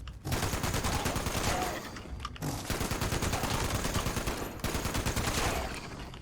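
Dense, sustained automatic gunfire from a player's weapon in Fallout 76, loud and continuous with rapid overlapping shots and two brief gaps near the start and later, no talking.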